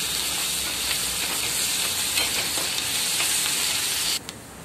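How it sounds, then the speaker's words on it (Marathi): Ginger garlic paste sautés with spinach in a hot pan, a dense, even hiss of sizzling oil that holds loud and close, then drops suddenly near the end. "आता यामध्ये आपल्याला थोडी अद्रक लसणाची पेस्ट टाकून परत याला थोडं कालून घ्यायचं आहे"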